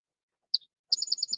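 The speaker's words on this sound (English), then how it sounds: "Oh, listen, them pretty birds." Small birds chirp outdoors: one brief high tweet, then a quick run of about six bright, evenly spaced chirps, clear against near silence.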